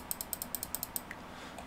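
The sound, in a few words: clicking of a broken computer mouse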